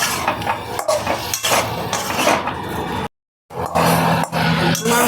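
Pumpkin and potato curry is stir-fried in a pan with loud, steady frying and scraping, as a utensil knocks and scrapes the metal in close, repeated strokes; the sound cuts out briefly midway.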